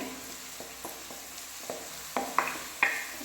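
Baby corn frying in a pan, a soft continuous sizzle with a series of light spoon taps and stirring scrapes that grow louder toward the end.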